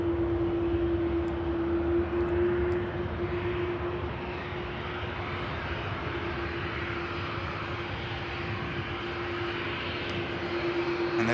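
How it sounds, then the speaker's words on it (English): A Boeing 787 Dreamliner landing at Manchester Airport, a steady broad jet roar with a sustained engine whine, continuous and moderately distant throughout. "And the Dreamliner now landed."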